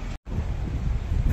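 Wind buffets the front camera microphone of a Xiaomi Black Shark 5 Pro smartphone outdoors near a road, making a low, rumbling roar with a brief dropout near the start.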